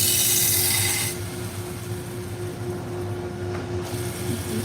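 A belt grinder running at 1,700 RPM sharpens a knife: a loud harsh rasp of steel on the belt for about a second, then a steady motor hum with light grinding, close and without talk.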